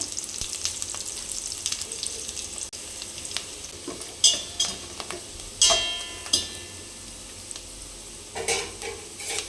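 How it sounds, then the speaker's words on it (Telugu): Chopped onions and cumin seeds fry in hot oil for bagara rice, giving a steady bright sizzle. Sharp clinks and scrapes from a stirring spoon break in several times. "ఇప్పుడు ఆనియన్ వేసుకుందాం. నేను ఇక్కడ సాజీరా వేసుకోవట్లేదండి, అందుకని కొంచెం జీలకర్ర వేసుకుంటున్నా."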